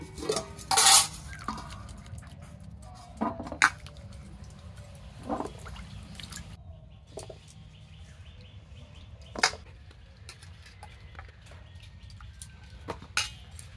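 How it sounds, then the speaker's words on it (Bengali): A knife chops potatoes into large chunks on a board, with a few sharp clacks spread out between quieter scraping and handling noise. "আলুটা আমি এইভাবে কাটবো, একটু বড় বড় করে কেটে নিয়েছি"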